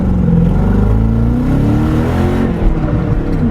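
A Ford Mustang Mach 1 found under a tarp, its engine running loud and close with a deep rumbling drone that rises and falls slightly as it is revved, with no voices.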